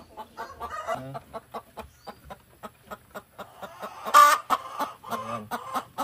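Breeder hens on a poultry farm cluck in a steady rhythmic series of short calls, fairly close, with one louder squawk near the end and no talking.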